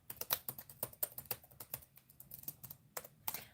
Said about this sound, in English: I have trouble making typing sounds.